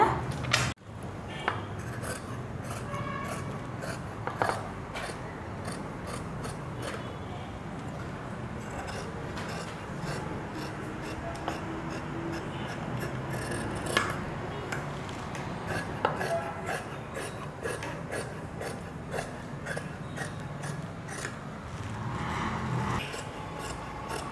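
Scissors cut through school uniform coat fabric up close, a steady rasping, rubbing crunch that runs almost unbroken for the whole stretch with small sharper snips now and then.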